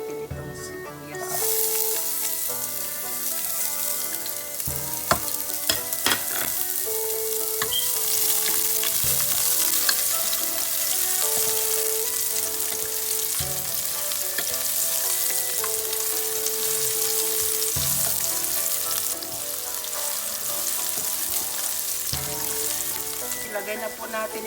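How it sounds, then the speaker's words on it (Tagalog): Onions frying in a hot pan for a mackerel sardines dish, a loud continuous sizzle with occasional clinks and stirring scrapes, close up and without talking. "Ilagay na po natin itong sibuyas."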